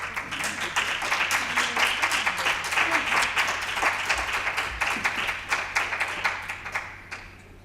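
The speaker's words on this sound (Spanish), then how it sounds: "No hace falta que aplaudiera." An audience claps after a talk, with dense, steady applause that carries on for several seconds, gradually thins out and fades near the end. Faint voices can be heard underneath.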